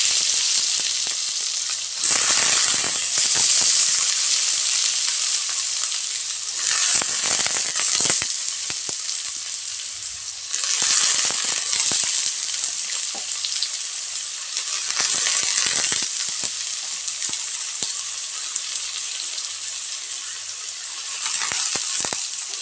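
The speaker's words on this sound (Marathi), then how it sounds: "छान म्हणजे कांद्याला तेलामध्ये आपल्याला परतून घ्यायचं आहे." Sliced onion added to hot oil with browned garlic sizzles and crackles steadily in a home kitchen pan for making onion-tomato chutney, the frying hiss swelling in waves as it is stirred, with no talk.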